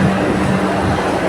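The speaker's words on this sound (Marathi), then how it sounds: "हे बघा ती ट्रेन निघाली." A train pulling out of an Indian railway station produces a loud, close, continuous rumble and wheel roar across a short moment, with no other sound standing out.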